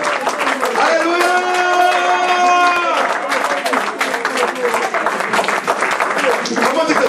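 A church congregation applauds and acclaims during worship, with sustained clapping and cheering voices. A singer or speaker's tonal voice rises over the crowd near the start.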